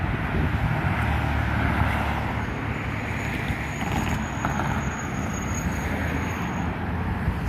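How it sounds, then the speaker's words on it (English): A jet airliner taking off from McCarran Airport in Las Vegas gives a steady, broad roar that holds at an even level throughout, distant rather than close, with no talking. "Take a look at another jet that took off here at McCarran Airport."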